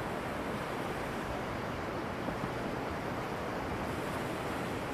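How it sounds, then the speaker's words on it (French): Ocean waves wash onto a beach in a continuous, dense roar of surf, steady and fairly loud, with no voices. "vous allez laisser le bruit des vagues envahir votre corps"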